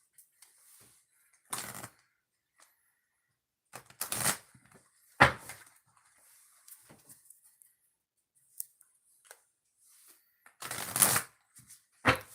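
Tarot cards are shuffled in several separate bursts of crisp riffling and flicking, close and fairly quiet, with near silence between them.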